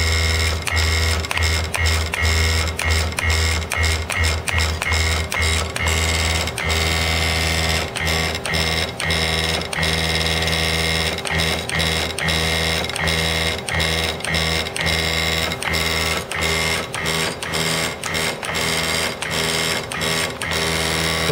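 An automatic vibratory parts feeder and counter dispenses small parts with a loud, continuous mechanical buzz and a rapid, irregular clatter of clicks throughout.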